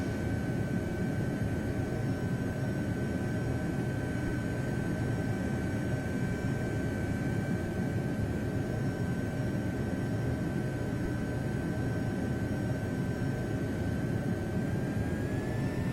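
A PC-9/A turboprop aircraft makes a steady, loud engine drone as it flies over a runway, with a constant tone held throughout and a slight rise near the end.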